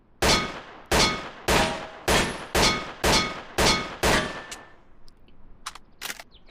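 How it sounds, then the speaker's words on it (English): Eight sharp, evenly paced shots from a 9mm Luger pistol at a 20-yard range, each crack loud and ringing with a short decay, followed by a few faint clicks and handling noises. "So first we're just going to shoot the Luger."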